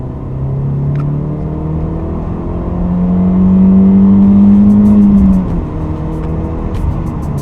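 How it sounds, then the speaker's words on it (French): A Peugeot 406 coupé engine revs up nearby, a loud rising drone that climbs and holds before dropping back to a steady idle rumble, with no talking. "Le moteur est cru en dessous de 2500 tours minute et semble se réveiller aux environs de 3500 tours minute"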